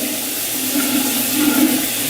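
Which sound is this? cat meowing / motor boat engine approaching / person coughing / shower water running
shower water running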